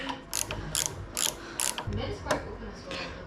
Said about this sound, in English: Then we just gotta take out the gazillion screws in the back here.